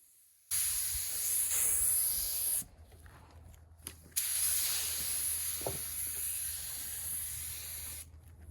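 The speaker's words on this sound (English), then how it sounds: "Here I'm going to turn the volume up so you can hear what's going on as I spray." A spray gun applying a wood finish gives a close, loud hiss in two long bursts separated by a brief pause, with a soft click between and a low steady hum of constantly flowing air throughout.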